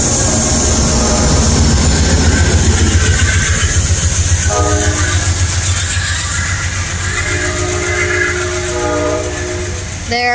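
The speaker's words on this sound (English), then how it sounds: "There goes a southbound train. It's right now going through the crossing." An Amtrak passenger train with a Genesis locomotive and a cab car on the front rumbles southbound past up close through a crossing, loud and steady, with a long horn blast sounding partway through before fading slightly.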